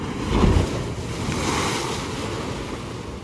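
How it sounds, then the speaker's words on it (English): Ocean waves surge through the rocks of Bicheno Blowhole in Tasmania, a loud close whoosh and rumble peaking early, then a sustained wash of surf mixed with wind buffeting the microphone. "there's like holes in the rocks and when the waves come it like blows up like a whale's"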